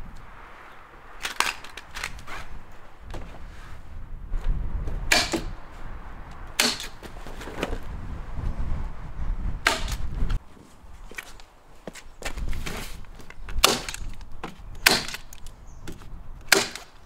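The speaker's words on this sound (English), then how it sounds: "I'm going to get them, put in the staple gun, and start getting this wrapped." Staple gun firing exterior grade staples to fasten house wrap onto a newly framed wall, sharp snapping shots at irregular intervals amid rustling of the wrap and shuffling footsteps, no talking.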